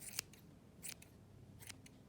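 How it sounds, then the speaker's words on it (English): Straight grooming scissors trim a dog's fur in a few quiet, sharp snips, with three to four separate cuts spread out over a soft, low background hum. "So then I'll just go ahead with the straight scissors and just kind of trim that up."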